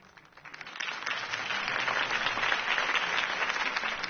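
A crowd's applause swells quickly and holds steady, a dense wash of clapping with no voices on top.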